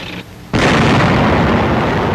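A WWII tank destroyer in action in France fires, and a sudden loud, broad blast rolls on after a brief quiet moment.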